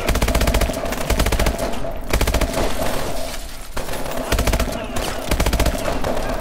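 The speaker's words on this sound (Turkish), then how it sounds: "Ve şunu da vurduk tamam." Gameplay gunfire in Call of Duty Advanced Warfare comes as loud, dense automatic bursts that rattle almost continuously with brief gaps, close and dominant throughout.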